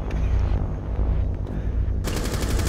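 Gunfire in Rainbow Six Siege on the Coastline map: dense, loud automatic fire that runs almost without a break, with a sharper, brighter burst near the end.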